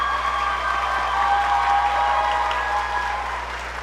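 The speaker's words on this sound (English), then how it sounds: "Another round of applause for our All-Staters." Steady audience applause for All-State choir students at a spring choral concert, a few seconds of even clapping over a faint hum before it begins to thin.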